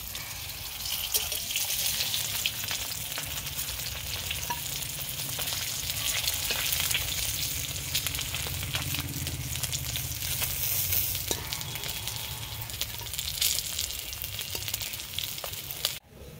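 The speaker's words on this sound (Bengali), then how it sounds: "মাছটা ভাজা হবে।" Pieces of katla fish fry in hot oil, giving a steady, dense sizzle up close with occasional stirring clinks for about sixteen seconds before it cuts off.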